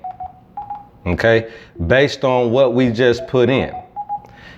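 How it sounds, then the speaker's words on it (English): A bioresonance therapy device gives short electronic beeping tones at the start and end of its scan, with a person talking in the middle. "the noise you're hearing is the scanning part"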